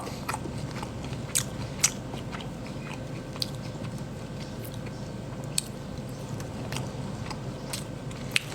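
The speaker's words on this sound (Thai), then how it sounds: "การเคี้ยวข้าวถือว่าเป็นการออกกำลังกายไหมคะ" Someone chews a mouthful of rice close to the microphone, a steady soft munching with faint clicks and a few sharper crunchy bites, no talk.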